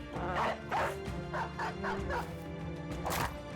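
A dog in the video game Battle Brothers lets out a rapid series of about six close, punchy barks and yips, with a low game soundtrack droning underneath.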